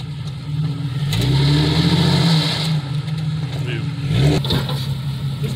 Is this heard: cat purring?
no